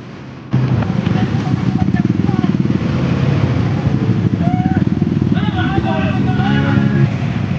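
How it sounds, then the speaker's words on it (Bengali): A motorcycle engine drones steadily and close during a road ride, its pulsing rumble constant throughout, joined by rising and falling engine whines of passing bikes, one a Suzuki Hayabusa superbike pulling a wheelie on the road. "দেখতে পাচ্ছ এই সামনে হায়াবুসাটা নিয়ে কিন্তু একটা দাদা কিন্তু হুইলি মারলো।"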